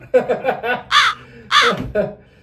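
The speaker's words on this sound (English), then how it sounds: "The crows are flying around his face now." Crows caw loudly and close by in a Dead Girls movie scene, a quick run of several harsh calls followed by two longer, louder caws, with no talking over them.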